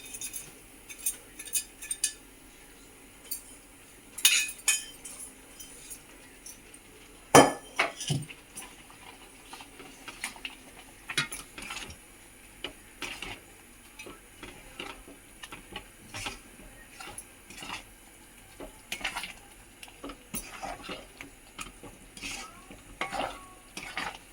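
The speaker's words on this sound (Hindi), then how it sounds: "मैंने इस तरह से इसको मेवा को अच्छे से मिक्स कर लिया है।" A dry fruit mix is stirred in a wok. Scattered clinks and scrapes of a spatula against metal come at an uneven pace over a faint background, close and with no talking.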